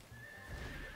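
Horse whinnying and snorting in Warriors Orochi 4, a brief, fairly faint game sound over a steady background bed, with no voices.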